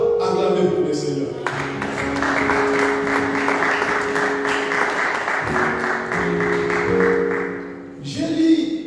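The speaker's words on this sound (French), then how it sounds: "Est-ce qu'on ne peut pas acclamer pour le Seigneur?" A church congregation applauds the Lord with sustained, dense clapping that runs for several seconds, mixed with music and voices and close and loud throughout.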